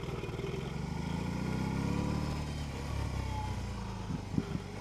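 A 2022 BMW R18 Classic motorcycle engine rumbles and builds as the bike pulls away on a test ride, a steady loud low drone that swells toward the middle, with a few sharper bursts near the end.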